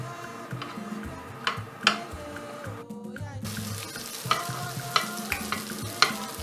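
Sausage cooking in a frying pan, with steady sizzling broken by sharp scraping and stirring knocks of a utensil against the pan, close and fairly loud, no voices.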